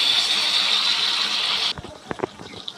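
Hot water from boiled potatoes is poured into a pan of peas, making a short, close, hissing splash that stops abruptly. A few faint clinks and knocks follow.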